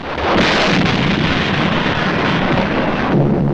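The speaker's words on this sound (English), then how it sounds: "This, the first mass bombing from the air of a helpless civilian population." Aerial bombing of Shanghai in September 1937, preserved on archival film: a loud, continuous roar of explosions and rumbling blasts that fills the whole stretch without pause, with no voices.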